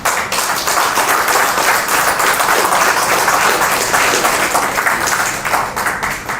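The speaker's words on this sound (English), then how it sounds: "So please welcome him with a round of applause." Sustained applause for a senior counsel about to present on trade secrets, a dense, even wash of many hands clapping that holds steady and loud throughout.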